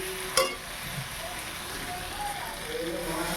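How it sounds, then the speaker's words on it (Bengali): Water goes into a hot pan of browned chicken, giving a brief splash and then a steady, hissing sizzle that holds at moderate loudness. "আমার কষা হয়ে গেছে। এবার দিয়ে দেবো পানি।"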